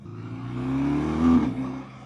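A 2025 BMW R12 nineT motorcycle engine revs up steadily, its low throbbing note rising to a peak and then easing back, heard up close with no talking.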